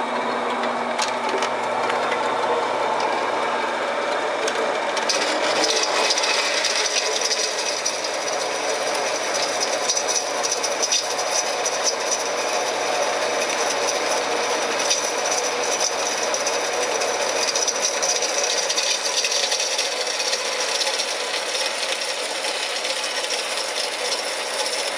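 A power tool cuts small metal pieces for a homemade mini acetylene torch, a steady, harsh, continuous grinding whine that stays loud and unbroken throughout with no talking.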